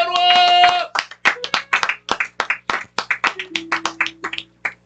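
A church congregation claps in acclaim after a short sung or shouted phrase, sharp unison claps in a quick irregular rhythm, close and lively, with a held voice tone beneath part of it.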